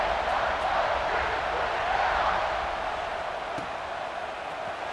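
Stadium crowd roaring in EA Sports College Football 26 during a kickoff, a steady broad wash of cheering that holds loud throughout and eases slightly toward the end, with no clear speech.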